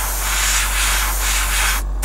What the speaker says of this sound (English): I'm just going to nicely spray it, nice and light.